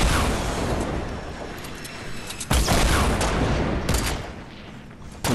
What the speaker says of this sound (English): he's shooting hella RPGs.